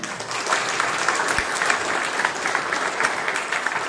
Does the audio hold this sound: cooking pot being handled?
no